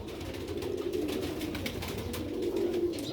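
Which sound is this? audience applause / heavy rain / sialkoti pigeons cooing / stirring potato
sialkoti pigeons cooing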